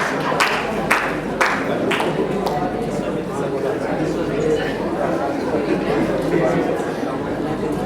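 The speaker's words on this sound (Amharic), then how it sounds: "አጨብጭቡ አጨብጭቡ አጨብጭቡላቸው።" Wedding guests at an apostolic wedding clap for people bringing gifts, a few sharp claps early on, then scattered applause blending into steady crowd chatter throughout.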